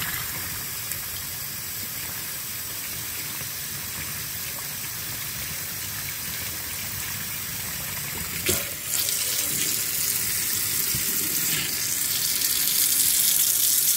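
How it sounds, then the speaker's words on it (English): Hot tap water pours steadily into a sink to rinse out a dirty thermos, a close, continuous hiss and splash that grows louder and brighter near the end. "I'm going to start rinsing it with hot water now"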